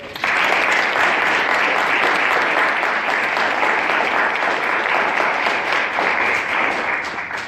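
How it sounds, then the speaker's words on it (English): Loud, sustained audience applause for Senator Vincent Hughes at a town hall forum on free college in Philadelphia, dense clapping holding steady from start to finish before tapering slightly. "So let's give a big round of applause to Senator Vincent Hughes."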